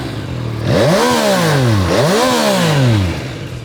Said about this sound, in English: You still get the CP3 triple, which is super lively on the throttle,